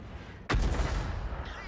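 The FV3805 self-propelled artillery gun fires in World of Tanks: a single loud, close blast followed by a long rumbling, echoing tail that slowly fades, with no talking.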